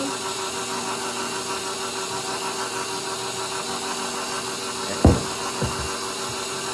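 An electric mixer runs on slow speed, blending flour and sour cream for an Oreo pound cake batter. It makes a steady, even motor drone throughout, with a short clunk near the end.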